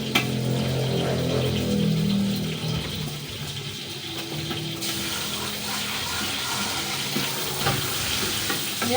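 A whole milkfish (bangus) fries in a hot pan, with steady oily sizzling and crackling running close and fairly loud throughout, joined by occasional stirring scrapes.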